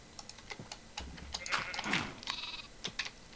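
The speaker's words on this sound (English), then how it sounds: "These are sheep and cows." Sheep bleating in a blocky survival video game with farm animals, a few short game-like bleats over a soft clicking background, moderately close, with no talk over them.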